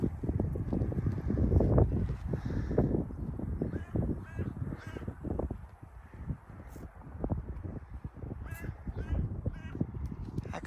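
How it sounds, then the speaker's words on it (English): A noisy crow caws repeatedly on a hilltop walk in Hampshire, loud harsh calls in irregular bursts over gusty wind buffeting the microphone. "How can one bird be so noisy?"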